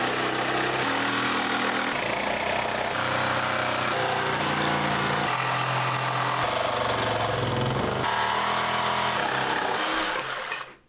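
A power tool cuts through scrap wood with a loud, continuous whining drone, its pitch shifting as the blade loads and frees up over several passes before stopping at the end.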